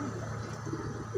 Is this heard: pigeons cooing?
yes